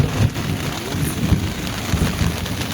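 Heavy rain pours down with gusting wind at a campsite in Kabaragala, Sri Lanka, a dense continuous hiss with low rumbling, close and loud throughout, no talking.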